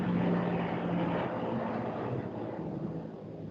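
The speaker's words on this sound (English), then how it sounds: "Some helicopter was passing by. So there was a lot of noise." A helicopter passes by outside as a loud, steady rotor and engine roar with a low hum, filling the whole stretch and easing slightly toward the end, with no talk over it.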